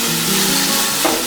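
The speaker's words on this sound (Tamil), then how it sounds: "போட்டு நல்லா கொஞ்சம் ஃப்ரை பண்ணணும். கொஞ்ச நேரம் நல்லா வதக்குங்க." Minced mutton keema sizzles steadily in a hot pan while being stirred, a close, continuous frying hiss with faint scraping.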